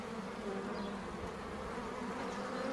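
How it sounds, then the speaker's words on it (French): Honeybees buzz densely around a hive after a swarm capture, a steady faint hum of many insects with no other sound. "voir les abeilles qui lèvent les fesses pour appeler les autres parce qu'elles leur disent que la reine est à l'intérieur"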